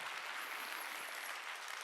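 Steady congregation applause fills a Sunday charismatic worship service, a continuous, even wash of many hands clapping together, fairly soft and distant, with no break.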